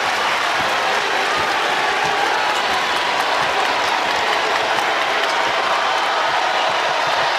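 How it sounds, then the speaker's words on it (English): Basketball arena crowd in Columbia at a South Carolina versus Texas women's college game, sustained dense applause and crowd roar, loud and continuous throughout. "Terrific crowd as always here in Columbia."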